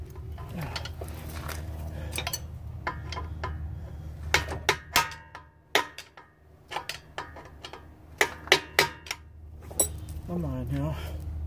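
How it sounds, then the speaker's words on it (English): Metallic clicks and clunks sound as an axle is pushed out of the hub on a 1995 Honda Civic with a 1.6L engine, irregular sharp taps and knocks close by over a low background hum. "Now we just push the axle out of the hub."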